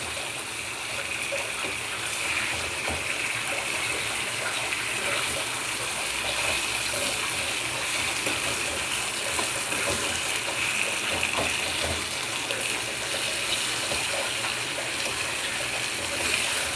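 Water runs in a steady, continuous stream into a pan of potato slices fried with chili, salt and turmeric, a constant splashing gush that goes on without pause.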